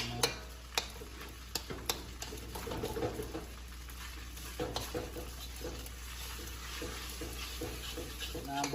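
Rice and vegetables stirred in a pan make soft scraping and sharp utensil clicks at an irregular pace over a quiet background sizzle, with faint birdsong in the distance.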